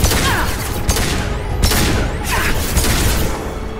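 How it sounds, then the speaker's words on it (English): Flashbang grenades go off in Mass Effect 2, sharp bursts and booming cracks repeating over a dense rumbling combat background. "Watch out, flashbangs!"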